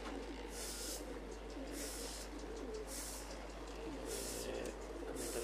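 Domestic pigeons kept as a hobby flock on a rooftop, cooing softly and steadily over a continuous low hum, with bright noisy bursts recurring about once a second; no talk is heard.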